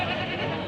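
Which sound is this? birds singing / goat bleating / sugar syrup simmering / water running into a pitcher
goat bleating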